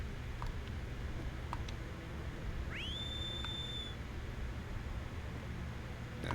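Wander whistles in the video game Shadow of the Colossus, a single rising then held tone lasting about a second over quiet background hiss with a few faint ticks.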